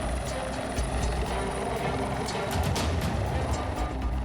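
Military helicopter of the Indonesian army aviation evacuating teachers and residents from Kiwirok district, Papua; a steady rotor thump and turbine drone runs throughout, close and fairly loud, with no speech.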